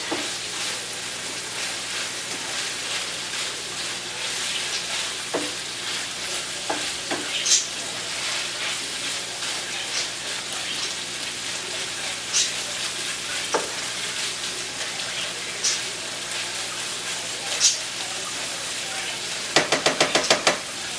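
Longaniza sausage frying in a pan, a steady soft sizzle with occasional light knocks of a utensil stirring, and a brief clatter of scraping near the end.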